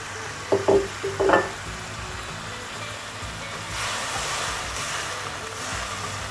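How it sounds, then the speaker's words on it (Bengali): Fish curry gravy for tel koi boils in a pan with a steady hissing bubble, preceded by a few light clinks of a utensil near the start. "আমার ঝোলটা ফুটে উঠেছে"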